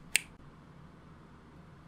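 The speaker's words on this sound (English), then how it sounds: "let's snap my fingers, make some lights appear" A single sharp finger snap near the start, close and crisp, followed by a quiet room hum with no other sound.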